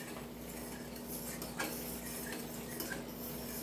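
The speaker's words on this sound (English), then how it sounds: "You guys can see I'm stirring it." Rice being stirred in a pot of water on the stove: continuous close scraping and swishing over a steady background hum, with a few slightly sharper knocks of the spoon.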